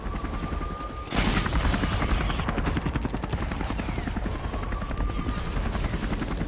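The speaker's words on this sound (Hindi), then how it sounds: "अब Mi-8 हेलीकॉप्टर से हमले का चौंकाने वाला वीडियो आपके सामने होगा" A Mi-8 helicopter flies low during an attack near Bakhmut, its rotor chopping in a loud, steady rhythmic thud that swells suddenly and stays close, with a bright burst like gunfire mixed into the roar.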